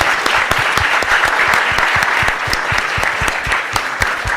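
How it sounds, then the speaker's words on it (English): An audience at a children's health institute Christmas lecture event gives the speakers another round of applause, a loud, close, continuous patter of many hands with distinct sharp claps scattered through it. "give the speakers another round of applause"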